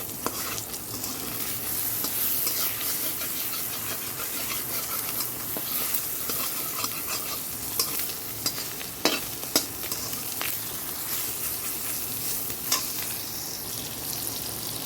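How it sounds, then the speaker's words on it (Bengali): Pointed gourd (potol) sizzles steadily as it fries in a pan, with a constant crackling hiss and occasional sharp pops and stirring scrapes, close and without speech. "এখানে পটল ভেজা করে নিচ্ছি"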